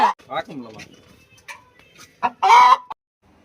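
A chicken squawks loudly in sharp, agitated bursts, several cackling calls ending in a long shrill squawk, close and prominent with short gaps of quiet between them.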